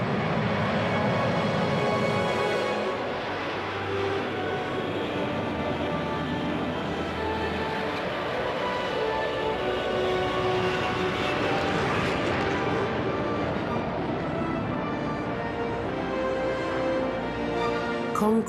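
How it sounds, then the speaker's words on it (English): Concorde, the supersonic airliner, roars at full throttle with reheat on the runway, a loud broadband jet rumble that holds steady for many seconds before slowly easing. "the noise when she actually got onto the runway, opened the throttles, full power with reheat"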